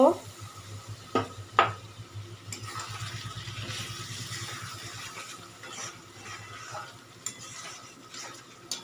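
Chicken curry masala being stir-fried in oil in a pan, with a soft sizzle, scraping and stirring, and a few metallic clinks of a spoon against the pan.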